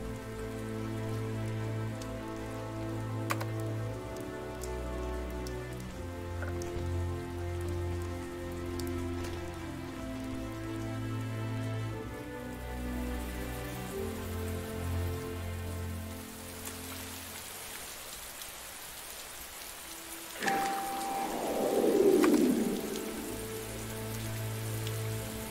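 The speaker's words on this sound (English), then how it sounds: "it's still raining pretty heavily" Heavy rain falls in the video game Mystery Trackers: The Void, a steady wash of rain beneath tonal background music, with a brief louder sweeping effect near the end.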